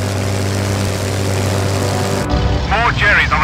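Engines of WWII propeller fighter planes taking off in a video game, a loud steady drone that drops away midway, followed by faint radio-style speech over lower engine noise.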